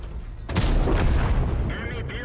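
Tank and artillery fire in World of Tanks, a heavy booming shot followed by a rolling rumble that fades, loud and close over a low engine drone.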